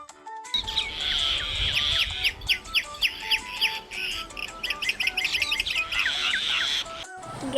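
A koel, the Asian koyal, gives a run of loud, repeated bright calls in quick rhythmic succession, close and clear with no talk, stopping abruptly near the end.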